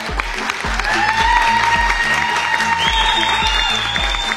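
A studio audience on a Persian-language TV comedy show claps in a dense, sustained burst of applause, loud and continuous, over a thumping rhythmic music beat.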